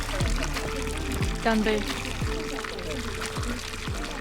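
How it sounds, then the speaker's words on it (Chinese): Drinkable spring water pours and splashes at the foot of the Guge Kingdom ruins in Tibet, a continuous close trickle with gurgling, while people talk and cheer over it. "这古格王朝的山脚下有一个泉水，这是可以直接饮用的"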